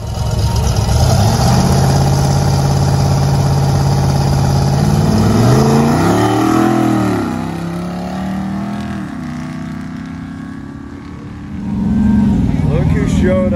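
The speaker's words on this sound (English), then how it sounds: "Parker's got his Hellcat." Dodge Hellcat engine at a muddy outdoor party in Florida, a deep idle rumble that swells into a couple of revs before dropping back and then rising again, with people talking nearby.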